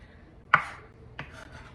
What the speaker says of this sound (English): I'm gonna chop up some onion